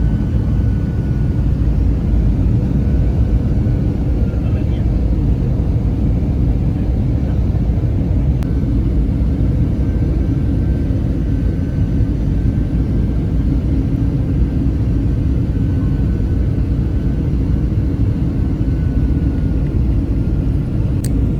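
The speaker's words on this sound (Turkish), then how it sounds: "uçağımız artık yavaş yavaş iniyor" Constant low engine roar from inside an airplane cabin during descent for landing, a heavy droning rumble that holds steady the whole time, with no voices.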